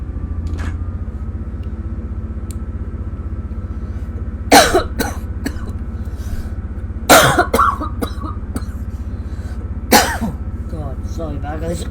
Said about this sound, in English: Cough's getting bloody worse and worse.